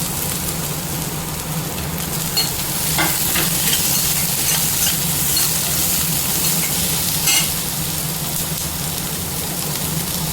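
Carrot and capsicum sautéing in a pan give a steady, close sizzle throughout, with a few brief scraping stirs of a utensil rising above it and no talking.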